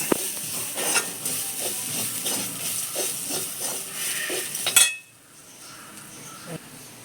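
A spice mixture is stirred and tossed in a hot frying pan, giving a steady sizzle with repeated scraping strokes close up, which stops abruptly near the end and leaves quieter faint hiss.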